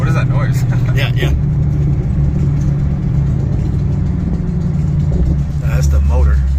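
A supercharged Lexus RC F engine idles loudly, roughly and unevenly with a low throbbing hum, close by, while voices talk over it.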